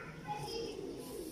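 A lal pari pigeon coos softly while being held in the hand, a low steady murmur running through the short moment with faint background noise.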